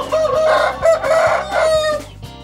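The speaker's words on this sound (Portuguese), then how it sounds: "são cerca de 400 aves. Elas são criadas como galinhas de capoeira" Free-range chickens on a farm of about 400 birds cluck together while a rooster crows loudly and close by in repeated drawn-out calls.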